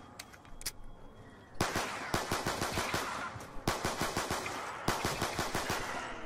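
Rapid bursts of automatic gunfire from a zombies-mode video game, with a 5.7 weapon, crack out loud and close in repeated volleys, with short pauses between runs of shots.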